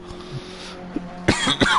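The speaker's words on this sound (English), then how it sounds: "excuse me for coughing down people's ear, I do apologise" A man coughs several times in quick succession, close and fairly loud, during a sim-racing broadcast of a race at Bathurst, with a faint engine drone underneath.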